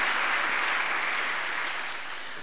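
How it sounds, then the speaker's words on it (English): An awards-event audience applauds a sponsor, dense sustained clapping from a full room that tapers slightly toward the end, with no voices over it. "a little applause for them"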